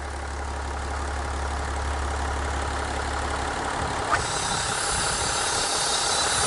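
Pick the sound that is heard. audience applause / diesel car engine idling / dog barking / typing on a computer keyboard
diesel car engine idling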